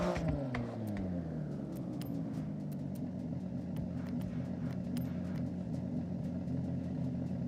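A Toyota Supra engine revs and drones steadily in the Forza Horizon racing game, a continuous loud mid-pitched hum with gear shifts and faint clicks throughout.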